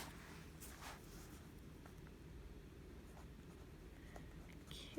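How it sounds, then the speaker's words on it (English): A pen writes a name in fresh ink on paper, a soft continuous scratching close up under steady low background hum, with a brief rustle at the end. "so I'm going to write the name in."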